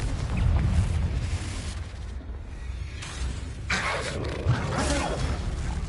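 Confringo blasting curse from the Goblet of Fire video game erupts in a sustained, dense roaring blast that swells again midway, loud and continuous with no talk over it.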